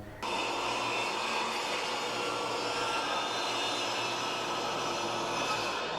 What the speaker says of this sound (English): I will rip along this line, leaving myself the 5-inch piece